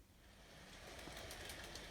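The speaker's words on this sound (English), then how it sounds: "And now it's time to run some trains." An HO scale model train, an Atlas U23B Union Pacific locomotive, rolls along steadily with a soft, continuous rumble and light rhythmic clicking, close by and fairly quiet.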